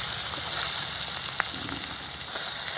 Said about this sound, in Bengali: একটা টমেটো দেবো পরিমাণ মতো লবণ হলুদ গুঁড়ো একটু চিনি একসঙ্গে এটা ভালো করে আমি কষে নেব